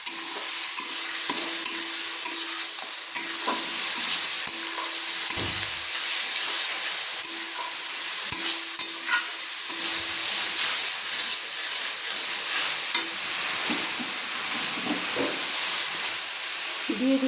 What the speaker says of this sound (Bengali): দিয়ে আমি ভালো করে নেড়ে নিলাম।